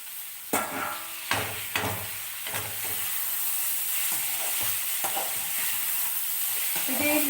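Tomato frying in a pan, a steady broadband sizzle with several sharp scraping stirs early on, then settling into continuous close frying.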